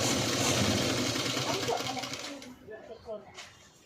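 Sewing machine stitching a boat neck, a loud, close, fast mechanical whir running steadily for over two seconds and then stopping, followed by someone speaking.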